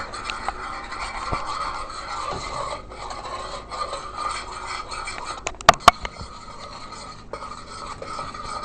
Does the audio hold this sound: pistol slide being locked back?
no